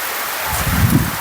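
Steady rain falling outdoors near flooded farm fields, a dense constant hiss with a low rumble building toward the end.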